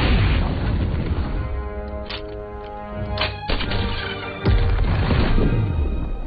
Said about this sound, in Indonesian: Kemudian Gary melempari air itu dengan granat agar memastikan kalau Julia benar-benar tewas